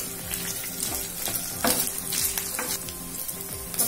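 Prawns with curry leaves frying in oil for a Kerala-style roast, a loud close sizzle with rhythmic spatula strokes scraping the pan every half second or so, no voices.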